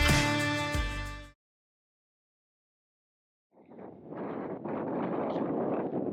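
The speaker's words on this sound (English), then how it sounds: "A little breezy out here, so not sure how the sound's going to turn out." Wind buffets the microphone outdoors in the Mojave Desert, a steady broadband rumble that returns after a short silence, following a brief burst of another sound at the start.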